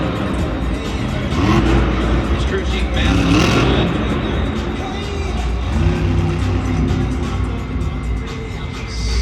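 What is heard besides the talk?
monster truck engine sputtering, starting and stopping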